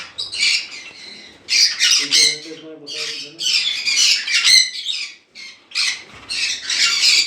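Conure parrots at a bird farm squawk loudly and harshly in rapid overlapping bursts, close by, with a short tonal call in the middle.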